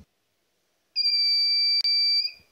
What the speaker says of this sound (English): When you put your hand or any other objects near the module, the, the buzzer turns on.